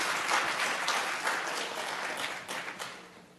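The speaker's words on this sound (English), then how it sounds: "Let's give him a round of applause" A summit audience applauds a panelist with a dense, even wash of clapping that starts full and slowly fades toward the end, with no voices over it.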